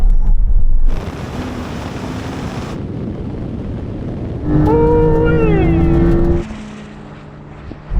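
A Porsche, a Ferrari SF90 and a Tesla Model S Plaid launch from a drag race start, heard from inside a car as loud roaring wind and road noise, with a rising, gliding motor whine in the middle.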